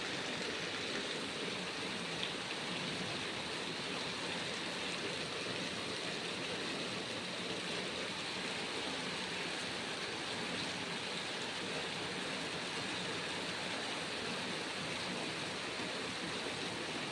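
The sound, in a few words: rainwater flowing along a flooded street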